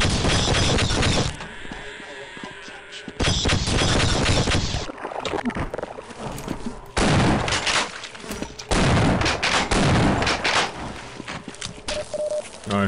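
Repeated, loud weapon fire from a Half-Life gun comes in long sustained bursts broken by short gaps, alongside other game sounds, with occasional talk.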